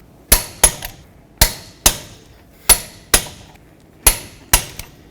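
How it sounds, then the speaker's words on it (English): Sharp metallic clicks from a torque wrench reaching 140 foot-pounds on the lug nuts of a 2007-14 Chevy Silverado front wheel, heard in close pairs of loud, crisp snaps with short pauses between, no talking. "let's torque these to 140 foot-pounds"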